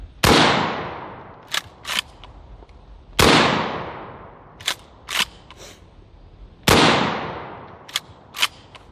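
A shotgun fires three 3-inch Magnum heavy steel number 2 shells, each a loud, sharp blast with a long decaying tail, spaced about three seconds apart, with smaller clicks and clacks of handling between shots.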